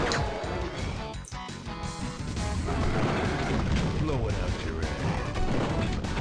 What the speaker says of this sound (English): They don't take a lot of damage from those explosions.